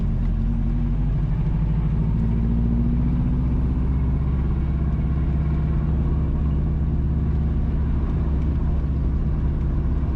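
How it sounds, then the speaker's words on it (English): Steady low rumble of a car engine and tyres while driving along the rural Cooperage to Guava Ridge (Mavis Bank) Road in St. Andrew, Jamaica, heard from inside the vehicle, continuous and fairly loud with no talking. "We are driving on the Cooperage to Guava Ridge Road, also Mavis Bank Road."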